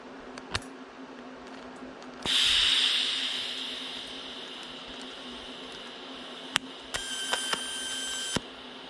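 Small-scale welding on a 1/14 scale model lowboy trailer at 18 amps: a sudden loud hissing arc bursts in and fades over a few seconds, followed by several sharp crackling pops and a brief thin whine, no talking.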